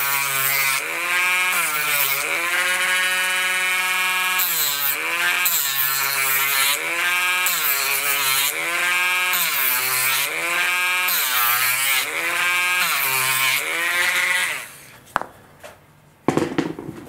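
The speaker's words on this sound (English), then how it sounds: "And then I'm just gonna take my Dremel." A Dremel rotary tool bevels the edge of a servo mount for a CN-Models Sensor F5J glider, its high buzzing whine rising and falling in pitch repeatedly for about fifteen seconds before cutting out.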